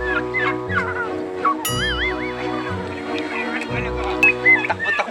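Ducks on a farm in Davao del Sur give repeated nasal quacks and squawks at close range over a steady, sustained tonal backdrop.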